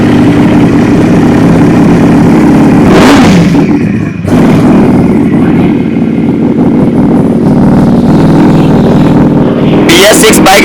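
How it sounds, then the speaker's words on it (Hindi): A Ducati V4S superbike engine rumbles loudly nearby, revving up and settling back, with a sharp rise at the end; a voice talks over it. "मैं फर्स्ट टाइम इस वीडियो के अंदर आपको इस बाइक की साउंड चेक कराने वाला हूँ।"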